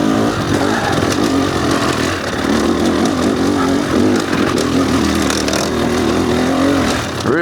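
An enduro motorcycle engine chugging at low RPM with the clutch feathered, a continuous loud, rough thrum with slight surges and close wind noise throughout.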